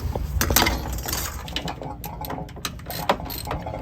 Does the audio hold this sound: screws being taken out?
yes